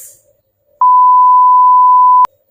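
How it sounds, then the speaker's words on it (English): A single steady electronic beep from an electronic voting machine after its vote button is pressed, holding one clear tone for about a second and a half before cutting off cleanly, close and alone. "you press the button and you get this sound"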